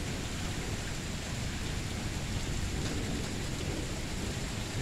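Steady light rain during a thunderstorm hisses continuously with a broad, even wash of noise and a faint low rumble underneath, no voices present.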